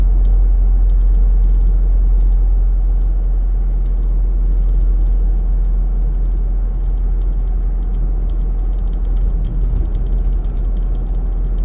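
A car driving toward Sriracha in Thailand gives a continuous low road rumble and engine hum from inside the cabin, steady and fairly loud for the whole stretch, with no talking.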